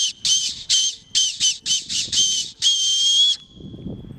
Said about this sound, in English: They could learn how they are able to whistle on these parts.